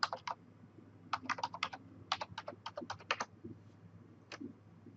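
Close, quiet typing on a computer keyboard to log in, quick clusters of key clicks in three or four bursts separated by short pauses, with no speech.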